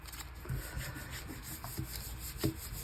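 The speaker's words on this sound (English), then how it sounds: "Let's rub this and pick up all that good paint." A hand rubs across a painted art piece to lift wet paint, making soft scraping and rubbing strokes in an uneven rhythm, close by and fairly quiet, with no voices.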